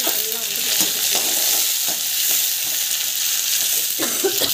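Onions, green chilies and chana and urad dal sauté in a hot pan, giving a steady loud sizzle broken by scattered scrapes and clicks of stirring, with no one talking.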